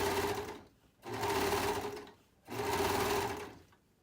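Sewing machine stitching a hoodie cuff in three short bursts, each running about a second with brief pauses between as the fabric is turned, steady and close with no talk.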